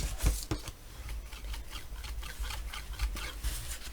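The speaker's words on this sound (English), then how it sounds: "Burnish at the seam and push that down." Paper is burnished by hand along the glued seam of a handmade mini album cover, a close series of short rubbing and scraping strokes repeating in an uneven rhythm.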